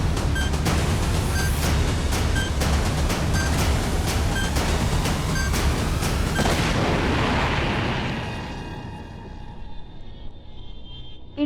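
A loud, sustained bomb explosion roars with heavy rumbling and rapid crackling blasts, then fades into a dull, decaying rumble.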